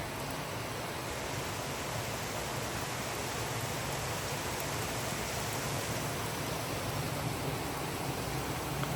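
Heavy rain pouring down continuously in a village in Ukraine, a thick, steady roar of water with no breaks and no voices.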